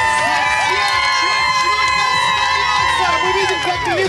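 Crowds along the main streets of Krasnodar greet the Olympic torch relay with sustained loud cheering, whoops and shouting, mixed with applause and children's cries, steady throughout.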